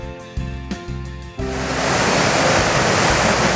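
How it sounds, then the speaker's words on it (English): Lower Basswood Falls, a three-part waterfall on the Canadian border in the Boundary Waters, roars loud and steady, a continuous broadband rush of water that takes over after a short tonal lead-in. "We're on the Canadian border at Lower Basswood Falls, and it's a three-part falls."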